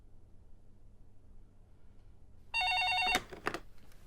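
An outgoing telephone call to a law firm gives one short electronic ring tone, followed by a few clicks and handling noises in a quiet office.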